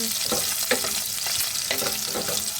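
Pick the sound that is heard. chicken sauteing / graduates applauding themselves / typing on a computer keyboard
chicken sauteing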